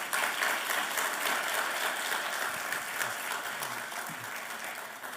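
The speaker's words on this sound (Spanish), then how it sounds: "Yo creo que Dios se merece un aplauso después de eso." A church congregation at Ekklesia Miami bursts into sustained applause during a sermon, dense steady clapping filling the room for about five seconds with no pauses, holding loud throughout and easing off only slightly at the end.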